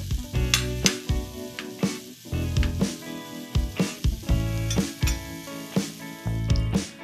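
Pancetta and sopressata render their fat in a dry pan, crackling with a continuous close sizzle while a utensil repeatedly stirs and taps against the metal in an uneven rhythm.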